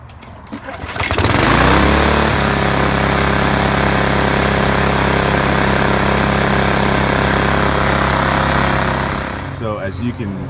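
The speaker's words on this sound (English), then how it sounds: "the lawnmower runs perfectly fine. It has no sputter in it. It has very strong power, a steady idle." A Briggs and Stratton lawn mower engine, freshly fitted with a new carburetor gasket and diaphragm, starts up and then runs at a loud, steady idle with an even drone and no sputter, before cutting off near the end.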